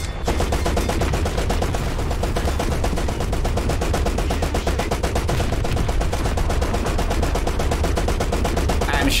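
Rapid continuous machine-gun fire in a tank combat video game, a dense, evenly spaced stream of loud shots running without pause over a constant engine rumble.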